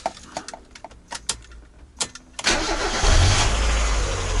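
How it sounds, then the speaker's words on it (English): Mazda MX5 NA Miata engine starting in a garage: a few clicks and knocks, then the warm engine cranks and catches, settling into a loud, steady idle close by. "Now I'm going to start the engine."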